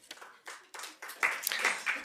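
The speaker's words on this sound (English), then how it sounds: "we're not supposed to clap" Brief scattered clapping from an audience at a city council meeting, a short patter of hands over a quiet room, mixed with faint voices.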